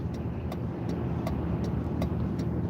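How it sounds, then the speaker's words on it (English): A 2008 Ford Crown Victoria cruises along a road, its steady engine and tire hum filling the cabin as a continuous moderate drone with faint periodic ticks and no talking. "I'm driving a 2008 Crown Victoria"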